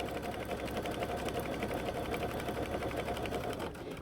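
A sewing machine stitches steadily through many layers of a scrap quilt, a continuous close mechanical whir with a fast even needle rhythm that eases off just at the end.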